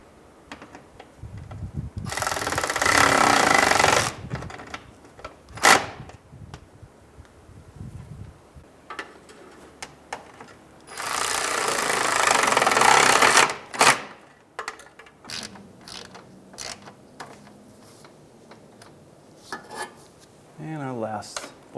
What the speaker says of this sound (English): we can actually come back and tighten these down